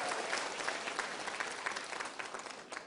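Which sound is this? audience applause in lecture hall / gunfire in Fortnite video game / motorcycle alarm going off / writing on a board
audience applause in lecture hall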